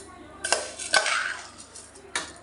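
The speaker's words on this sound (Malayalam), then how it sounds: "ആ അരിയാണ് ഇപ്പം മിക്സിയിലെ ജാറിലോട്ട് ഇട്ട് കൊടുക്കുന്നത്." Soaked rice going into a mixer grinder jar while making palappam: a few close clinks and clatters of the steel jar and spoon, with a soft wet scrape between the knocks.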